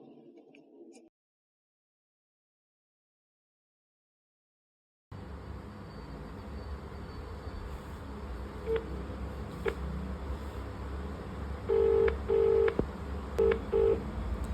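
Mobile phone call being dialled in a shop setting: a brief sound, a pause of silence, then a quiet hum with a few short electronic tones beeping in quick succession near the end.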